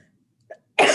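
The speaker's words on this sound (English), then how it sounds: "Sorry, I'm going to cough." A single harsh cough bursts out near and loud after a brief earlier throat sound, set in a quiet committee meeting room.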